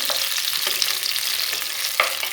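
Onions sautéing in a hot pan for an artichoke salad, a steady, loud, close sizzle with faint stirring scrapes and a brief sharper hiss near the end.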